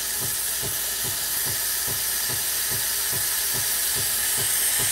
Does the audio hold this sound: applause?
no